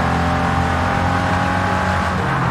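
A car engine in the racing game Forza Horizon 5 hums steadily and loudly throughout, a continuous motor drone with no pauses and no voices.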